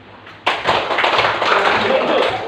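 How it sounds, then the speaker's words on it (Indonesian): A classroom group of children clapping hands together in a burst of dense, continuous clapping that starts suddenly and holds steady to the end, loud and close, with no individual claps separated. "Kalau kalian bahagia, coba tepuk 5 kali."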